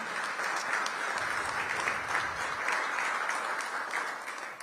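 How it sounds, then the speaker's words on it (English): Audience applause at a mayoral union agreement signing, dense continuous clapping at an even level throughout, with no talking over it. "Give them a big round of applause."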